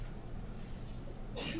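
A single short sneeze bursts out near the end of a quiet stretch during a math lesson, sharp and brief against low background noise.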